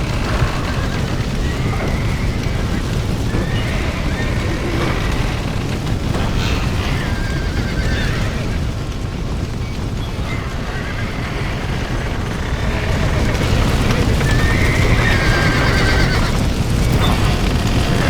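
Horses whinny and gallop in a Red Dead Redemption (2010) barn rescue scene, with several high neighs rising over a steady dense rumble of hooves and commotion, loud and sustained.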